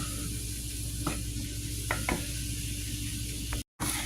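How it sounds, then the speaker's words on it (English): Ground burger meat browns in a hot pan, a steady close sizzle with a few brief scraping stirs, heard alone without talk. "I have some burger. I'm just going to brown and cook it here"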